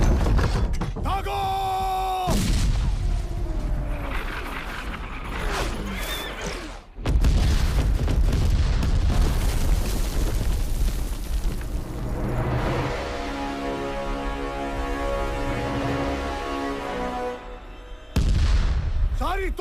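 Cannon fire and explosions in a historical battle film, loud booms and rumbling blasts mixed with horse whinnies, clattering and a score, with shouted voices in places.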